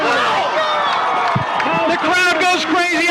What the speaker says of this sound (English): The crowd goes crazy as Taos recovers the fumble.